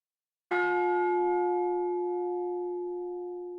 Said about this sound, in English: I heard a bell sound.